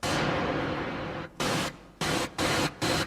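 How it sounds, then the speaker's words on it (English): Moog synthesizer putting out white noise, first as one long steady hiss and then as four short bursts separated by brief gaps, loud and close with no talk. "It's just white noise, and then you can use that."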